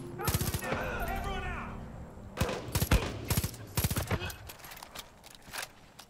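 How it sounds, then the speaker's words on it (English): Bursts of rapid gunfire in the video game Far Cry 5, loud clustered shots separated by brief lulls, with some voice and game sound mixed in early on. "Was someone else shooting?"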